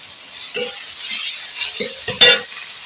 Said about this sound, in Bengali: এটাকে ভালো করে নাড়াচাড়া করে ভেজে নেবো